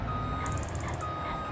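A truck's reversing alarm in the farming game Farming Simulator 25, sounding as a steady run of evenly spaced high beeps over a constant engine drone, with no speech.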